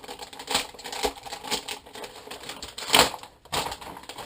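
A plastic parts bag from an Axial Jeep Rubicon RC kit is torn open with several short crinkling rips and rustles, close and moderately loud, with no talking.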